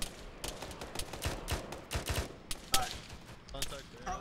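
Rapid bursts of gunfire from an Arma 3 battle, with repeated sharp broadband shots in quick volleys and scattered single cracks at mid distance, layered over a steady background din of combat.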